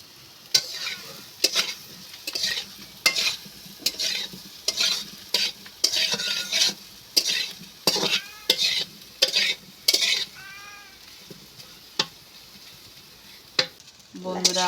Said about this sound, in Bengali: এবার আমি সয়াবিনটা এই তেলে ভেজে নেব।